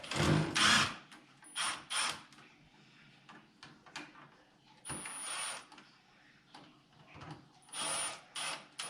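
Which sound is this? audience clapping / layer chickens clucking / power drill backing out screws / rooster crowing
power drill backing out screws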